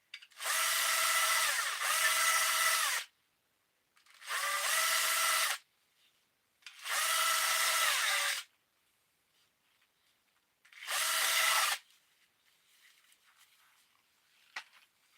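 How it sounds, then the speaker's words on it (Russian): A cordless drill whirs in four short bursts separated by silent pauses, each a steady high-pitched grinding whine as it sharpens a chainsaw chain, close and fairly loud. "на бензопилу точим цепи. Ты его поставил в шуруповерт."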